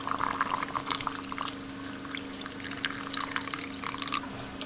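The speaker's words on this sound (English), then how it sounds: "I'm going to pour it over the ferment." Brine pours over carrots fermenting in a jar, making a close, continuous splashing trickle with small bubbling drips that keeps going without pause.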